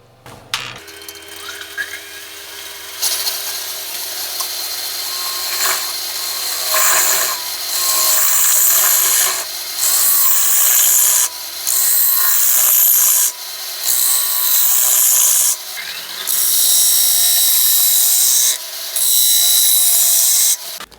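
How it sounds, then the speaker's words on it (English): A wood lathe spins as a gouge hollows a green wood bowl from the center out, a loud rasping cut that comes in repeated bursts separated by short pauses, with the lathe's steady hum beneath. "We're going to hollow from the center out, and so let's get turning."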